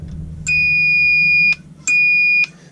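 A small battery-powered buzzer alarm on a Dillon 650 reloading press powder measure gives two sustained, steady electronic beeps, about a second and half a second long, loud and close over faint background hum.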